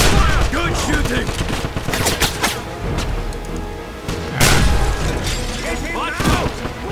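Rapid bursts of gunfire from the Wolfenstein shooter game, loud and repeated with sharp impacts and clatter, a steady battle din with speech mixed in.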